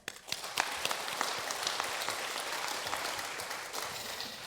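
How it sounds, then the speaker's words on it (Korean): Church congregation applauding during a Sunday afternoon service at a Korean Presbyterian church, a dense, steady wash of many hands clapping that fills the whole stretch without talk. "우리의 발걸음과 함께하신 하나님께 영광의 박수 올려드리겠습니다."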